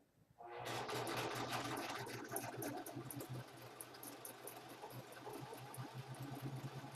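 A home sewing machine jamming while stitching a scoop-neck blouse neckline gives a close, continuous rhythmic mechanical whir with rapid ticking pulses.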